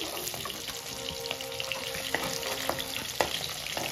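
Fresh rohu fish pieces frying in hot oil for a Bengali doi rui, a close steady sizzle with occasional clinks and taps as the pieces are lifted out of the pan.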